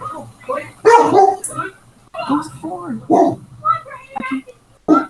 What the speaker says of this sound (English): This race has been distracted by a dog.